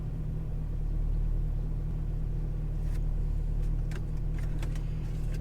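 2003 Mercedes-Benz SL55 AMG engine heard from inside the cabin with a window down: a steady low rumble at an even idle or cruise, with faint light rattles and clicks above it and no talking.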